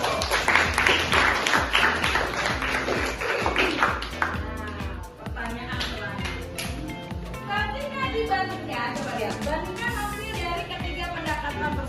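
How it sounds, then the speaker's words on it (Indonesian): A classroom full of children claps together during a lesson, a dense patter of hands over lively chatter, fading into talk and noise. "tepuk tangan dulu"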